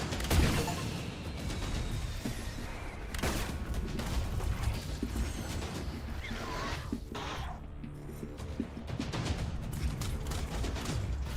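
Enemy gunfire in the video game Luna Abyss rattles in dense strafing bursts, loud and continuous, mixed with booms and mechanical clatter throughout.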